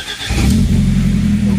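A stock BMW E30 engine rated at 138 brake horsepower, original and near 300,000 miles, swells from quiet into a loud, steady low engine drone as the car accelerates close by.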